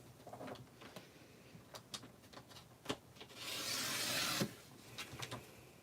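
A paper trimmer slices along the edge of a handmade card in one steady, bright rasping pass a little over a second long, with faint handling taps and rustles before and after.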